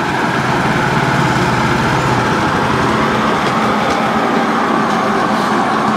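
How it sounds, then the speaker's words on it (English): A running engine blows its exhaust to clear sawdust off after log sawing, a loud continuous rumbling roar with steady broadband rushing and no talk. "Using exhaust to blow your sawdust off."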